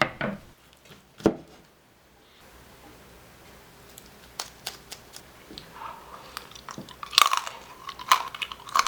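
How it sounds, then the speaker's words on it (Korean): Crunchy chewing of crispy pork belly skin, with a couple of sharp bites and then irregular crackly crunches up close, fairly quiet with small clicks between. "들리는 대로 바삭하고 맛있게 잘 됐습니다"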